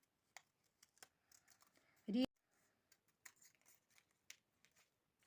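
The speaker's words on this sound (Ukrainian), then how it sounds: "Беремо ножиці і починаємо вирізати." Scissors snip out paper flower stems in quick, small clicking cuts up close, with one louder snip partway through and soft paper rustling between cuts.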